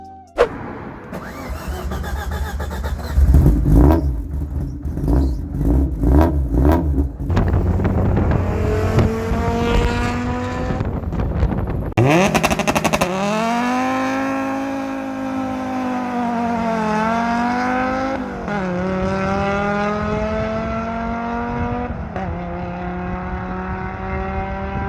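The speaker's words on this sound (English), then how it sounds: "gives you that sweet 5-cylinder symphony that we all love" A Volvo five-cylinder engine swapped into a Mazda Miata fires up and revs hard, rising and falling in pitch with rough, throaty rasp, loud and close, with repeated blips and sustained high-rev pulls.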